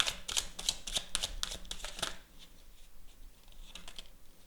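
Tarot cards shuffled by hand, a quick run of dry papery riffles and taps for about two seconds, then a few soft scattered slides and clicks as cards are drawn, close and fairly quiet with no talk.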